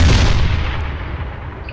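An artillery battery in the game Arma 3 fires HE rounds, a single loud, close boom with a rolling low rumble that fades over a couple of seconds.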